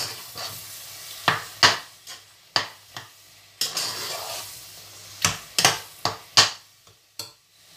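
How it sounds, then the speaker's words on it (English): A utensil stirs ingredients together in a bowl, giving a series of close, uneven scrapes and clinks against the dish with short gaps between strokes. "Stir everything together."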